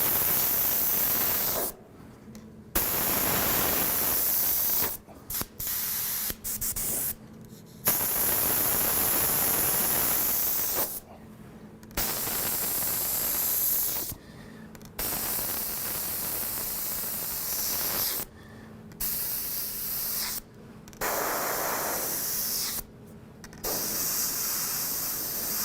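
An airbrush sprays paint onto a stencil while someone paints realistic fire. It hisses in repeated bursts of a second or a few seconds each, separated by short silent pauses, close and fairly even in loudness.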